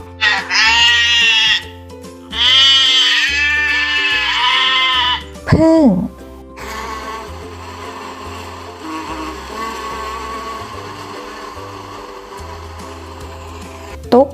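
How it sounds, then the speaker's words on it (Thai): A goat bleats in several loud, wavering calls with pauses between, in a children's animal-sounds lesson, followed by a quieter stretch of background noise. "แพะ"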